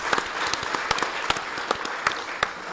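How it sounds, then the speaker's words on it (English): Audience at a Masonic celebration event claps along, a moderate patter of applause with distinct sharp individual claps standing out, fairly quiet and steady throughout. "clap it up, clap it up"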